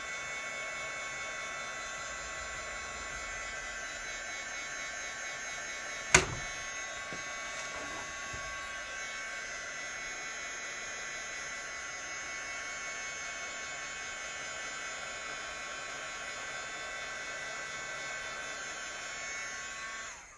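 Handheld heat dryer blowing on blue Chalk Couture ink on a silkscreened shirt, a steady, close whirring hum that runs without a break, with one brief click near the start.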